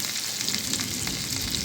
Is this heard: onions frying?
yes